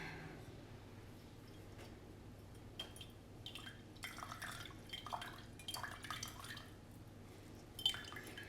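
Homemade elderberry syrup is poured in small, faint trickles and drips into a container, quiet liquid splashes coming and going in short bursts close by.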